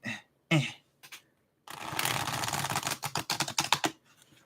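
A few soft card flicks, then a rapid, rattling riffle of stiff tarot cards that are hard to shuffle, close up.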